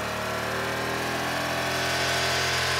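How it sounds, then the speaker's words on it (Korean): A stock, untuned motorcycle sits stationary with its exhaust running at steady high revs, producing a loud, constant engine drone close to the listener, with no talking. "먼저 튜닝을 안 한 순정 이륜차가 멈춰 있을 때 배기 소음을 측정하는데요"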